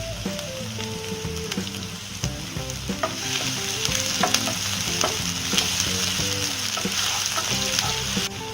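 Onion whites sizzle steadily in a hot pan for Indian-style veg fried rice, with loud, continuous frying and repeated clinks and scrapes of a spatula stirring.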